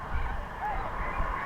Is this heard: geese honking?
yes